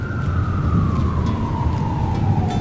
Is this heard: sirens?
yes